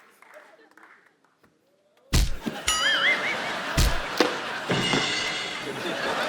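On a comedy show stage, a door is staged as being broken down: after a near-silent moment, a heavy thud strikes, then more impacts ring out amid crowd noise and shouting voices.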